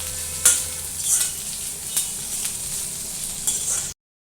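Onions frying in oil with green chilies, curry leaves and garlic, a steady sizzle broken by several short scraping stirs at regular intervals, close and clear with no talk.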